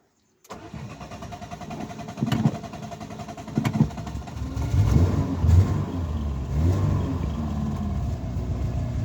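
A Volkswagen Golf GTI engine cranks after a near-failed first attempt, catches and settles into a rough, rising rumble with a few revs, loud and close with no talking.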